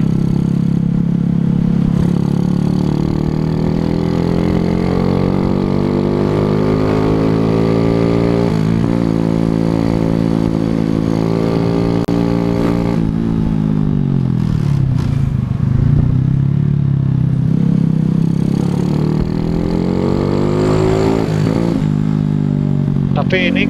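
A Suzuki Shogun SP 125 racing motorcycle engine runs steadily and revs up and down with sluggish throttle response, loud and close throughout, with a person talking over it.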